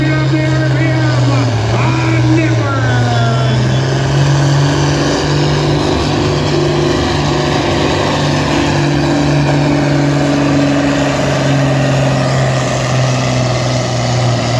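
A pulling truck's engine at the Dungannon Super Pull 2019 holds a loud, deep, steady roar that rises slightly in pitch as the revs come up, heard close and continuous with no break.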